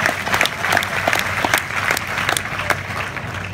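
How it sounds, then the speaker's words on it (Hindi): Loud, steady applause from a crowd at a hostel silver jubilee gathering, honouring donors, sustained for a few seconds with a faint voice mixed in. "इनके लिए भी जोरदार तालियां।"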